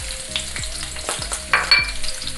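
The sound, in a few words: onion frying in hot oil in a kadhai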